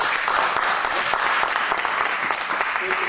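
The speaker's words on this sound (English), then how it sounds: "perhaps we can save our applause for the end" Dense applause from a large audience at an open carry debate, steady and loud throughout with no pauses.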